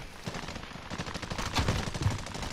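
Rapid automatic gunfire in the Warzone video game, a steady burst of loud overlapping shots running the whole stretch with some heavier bangs near the end.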